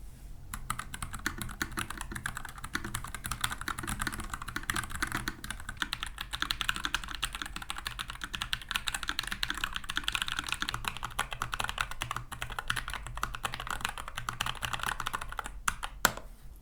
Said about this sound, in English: this wouldn't be a keyboard video if I didn't at least give you a quick typing test of each one